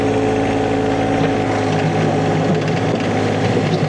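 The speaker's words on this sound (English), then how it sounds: "I'm getting the tractor into position" Tractor engine running steadily while the machine is repositioned, a loud, constant droning hum with a rough low rumble and no pauses throughout.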